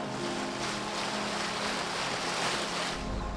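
Steady wash of wind and water rushing past a homemade sailboat at sea, running under unfurled sails with its engine going, a constant low rumble beneath broad hiss, with no voices.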